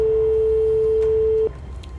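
A single steady telephone ring tone sounds for about a second and a half, then cuts off, leaving quiet line noise.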